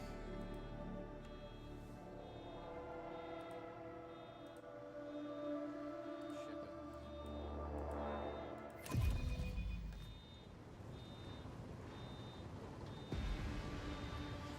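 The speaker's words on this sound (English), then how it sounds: "There is like a weird alarm going off in my apartment." A steady electronic alarm beeps in a nearby apartment, a repeating high tone pulsing evenly through the whole stretch, mixed with game sound and a low rumble, with a sharp thump partway through.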